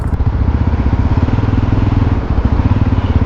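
A Yazdi Roadster motorcycle runs on the road with a loud, close, steady rumbling engine that throbs rhythmically for the whole stretch, with no voices.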